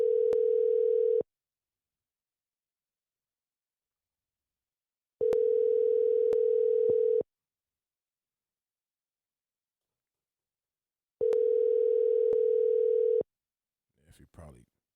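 Steady telephone dial tone sounding in three separate bursts of about two seconds each, with silence between them, placed while calling a guest during a podcast episode; a brief rustle comes at the very end.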